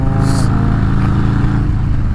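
BMW K1600B motorcycle engine idling close by with a loud, steady, smooth rumble throughout.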